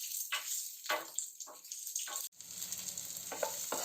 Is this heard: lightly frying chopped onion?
yes